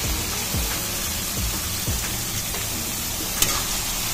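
Shredded cabbage frying in hot oil with melted tomato, a dense continuous crackling sizzle with repeated scraping stirs every half second or so, close and fairly loud, no voices.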